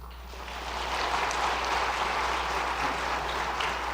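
Sustained applause from a church congregation during a Sunday worship service, honoring children's award winners: steady, dense clapping that swells in the first second and holds evenly throughout.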